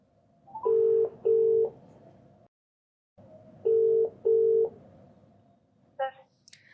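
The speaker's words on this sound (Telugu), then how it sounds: "ఒకసారి కాల్ చేస్తానండి." Telephone call ringback from a phone: two paired ring tones, a silent pause, then another paired ring, all steady and clear, followed by a short voice at the end.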